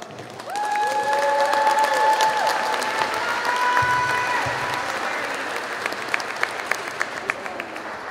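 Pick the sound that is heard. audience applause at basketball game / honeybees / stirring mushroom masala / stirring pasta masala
audience applause at basketball game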